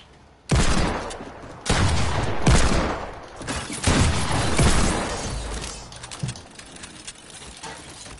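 Rapid bursts of video game gunfire ring out in loud, clustered volleys, several sharp shots and fusillades in a row, then trail off to quieter, scattered pops.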